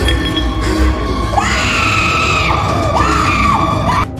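A corny, exaggerated movie scream from someone in a trailer, loud and sustained with a rising wavering pitch that breaks and swoops over a dense soundtrack bed, lasting several seconds.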